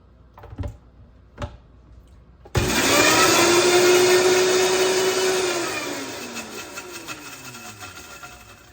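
A kitchen blender starts up abruptly after a couple of clicks and blends basil with olive oil, a loud steady whir that gradually winds down and thins out.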